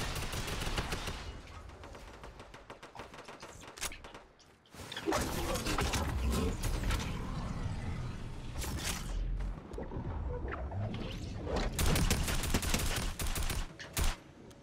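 In Fortnite, an SMG fires in rapid chattering bursts, with stretches of heavy, continuous gunfire and explosive rumbling at moderate loudness and short pauses between volleys.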